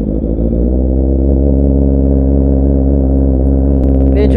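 Honda CB650R motorcycle engine cold-starting and settling into a loud, steady idle with a strong low rumble, running alone with no talk over it.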